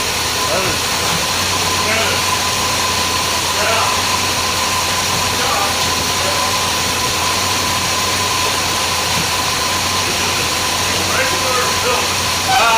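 A 1979 Chrysler Cordoba 300 idles with a loud, steady, unbroken drone, heard up close and dominating the scene throughout.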